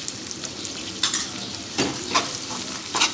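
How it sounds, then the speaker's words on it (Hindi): Onion and chili fry in a pan on a low flame, a close sizzle broken by several scraping stirs of a utensil, with no talking. "अब मैं इसमें चिली ऐड करूंगी और लो फ्लेम में इसे स्टर करूंगी"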